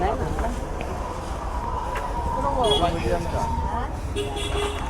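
Vehicle horns toot and honk through busy road traffic, with tonal blasts rising and overlapping around the middle, set against a steady roar of engines and voices talking nearby.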